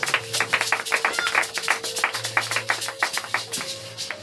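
A church congregation claps in rhythm to acclaim Jesus, a steady run of close, fairly loud handclaps over a held organ or keyboard tone, with no one speaking.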